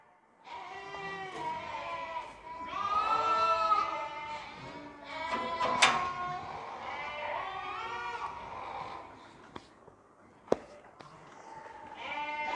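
Sheep and lambs on a large farm bleating repeatedly, several overlapping calls near and far, with brief clanks and knocks in between and little talk.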